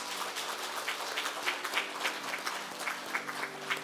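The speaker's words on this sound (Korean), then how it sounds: "여러분들에게 인사드릴 때 뜨거운 박수로 축복해 주시기 바랍니다." A congregation at a Sunday worship service in a Korean church gives warm applause to honor retiring deaconesses. The clapping is steady and full, with soft sustained tones beneath it, and it lasts about four seconds.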